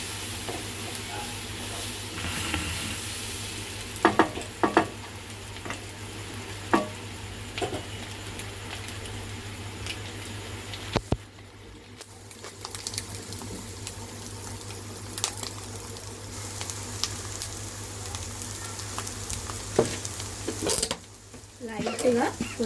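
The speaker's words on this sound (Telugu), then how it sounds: "మనం ఎగ్ కొట్టి వేసినాం కదా, అది దగ్గర కాకుండా ఇట్లా ఫ్రై చేసుకుంటుంటే మనకి బాగుంటుంది" Beaten egg stir-fried in a pan for a masala egg dish, giving a steady low sizzle with repeated scraping and stirring clicks throughout, and a voice speaking intermittently over the cooking.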